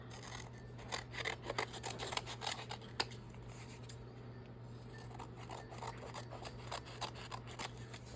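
Scissors trimming paper or fabric for a witch image in a frame, soft repeated snips and rustles close up over a steady low hum.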